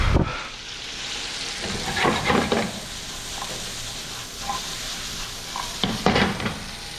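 A wire whisk beats egg yolks in a bowl in a kitchen. It makes intermittent bursts of brisk scraping and clinking over a soft background hiss, with quiet pauses between strokes.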